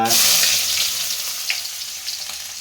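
Onions fry in hot oil with cinnamon and cardamom, a steady, close, loud sizzle that slowly eases, with faint stirring taps.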